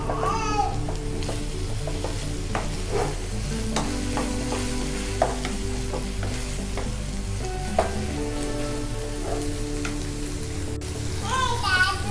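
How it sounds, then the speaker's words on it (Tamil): Vegetables coated in chilli sauce are tossed and stirred in a hot pan for egg fried rice, giving a steady sizzle with scraping stirs throughout, close and fairly loud, with a brief voice near the end. "சாஸ் எல்லாம் நல்லா காய்கறியில் பிடிக்கிற மாதிரி பரட்டி விட்டுக்கலாம்."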